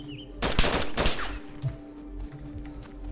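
Mosin rifle fire in an online survival shooter game, a quick burst of sharp cracks early on followed by fainter thuds and ambient game noise, no speech.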